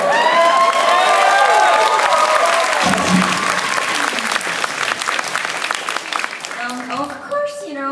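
Loud crowd applause and cheering for composer Noriyuki Iwadare at a live event, whoops and shouts over steady clapping, with voices and speech rising above it toward the end.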